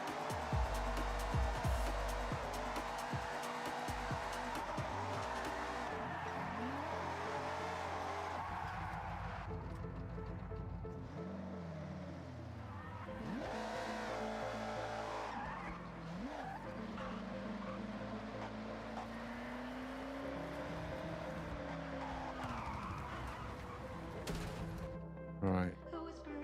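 A BMW drifting in Forza Horizon 6 on a drift track, engine revving and tires squealing in repeated long screeches with rising and falling pitch, loud and close, with a voice talking over parts of it.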